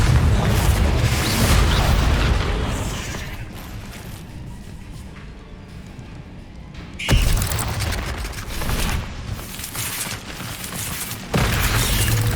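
The Confringo fire spell explodes in Hogwarts Legacy, loud and dense: sustained booming blasts and crackling bursts, a quieter lull in the middle, then fresh sharp explosions in the busy combat that follows.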